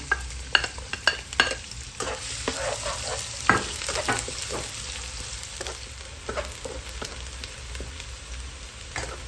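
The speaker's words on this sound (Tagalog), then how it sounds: "Gisa na yung bawang sibuyas." Garlic and onion sautéing in hot cooking oil, a loud close sizzle with repeated scraping stirs and clicks as the pan is worked, steady throughout with no voices.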